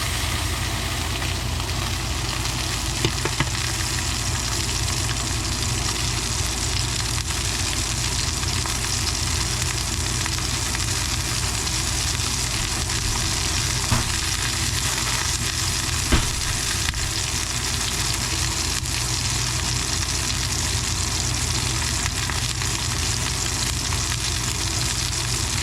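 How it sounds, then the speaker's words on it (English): Butter sizzling and frying steadily in a hot pan while cooking steak and eggs, a continuous close crackling hiss with a low hum beneath, no talk. "here I am putting the butter into the pan"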